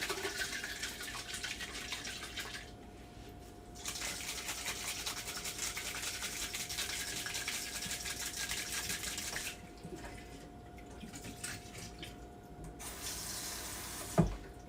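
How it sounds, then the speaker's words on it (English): A tap runs as a can is rinsed out beneath it, giving a loud, steady hiss of water that briefly stops twice before flowing again, then ends with a short knock. "we're gonna rinse out this can"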